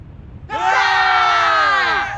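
A loud, sustained shout rises suddenly from the crowd at an India versus England Test cricket match, a single roar holding for over a second before fading slightly.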